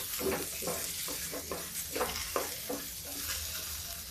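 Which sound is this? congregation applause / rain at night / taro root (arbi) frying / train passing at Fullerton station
taro root (arbi) frying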